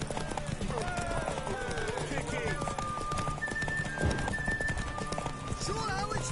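Horse hooves clip-clopping at a run in The Witcher 3, a steady galloping rhythm with occasional whinnies, mixed under game music and characters talking.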